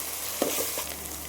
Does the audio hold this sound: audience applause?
no